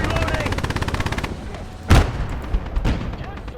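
Rapid, evenly spaced bursts from a Browning machine gun in the Kelly's Heroes video game, followed by a single loud artillery blast and a few lighter thumps, with battle noise rumbling throughout.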